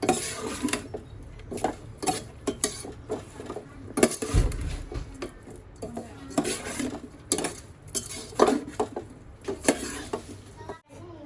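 Spicy Thai beef salad (phla nuea) with fresh herbs being tossed and mixed in a bowl, giving repeated close clinks and scrapes of utensils against the dish, with soft wet patter between strokes and no talking.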